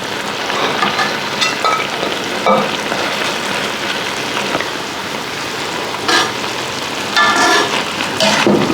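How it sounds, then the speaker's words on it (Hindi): Chicken frying in a karahi for Lahori chicken karahi: a steady, close sizzle and crackle of hot oil with a few sharper pops and spatters and no talking. "चिकन को पकते हुए 10 मिनट हो गए।"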